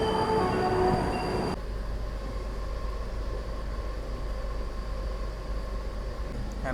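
The Chennai-Bangalore double decker express pulls out of MGR Chennai Central, heard from inside a carriage. A loud, even rumble of rolling wheels and coach noise carries on throughout, brighter and busier in the first second-and-a-half.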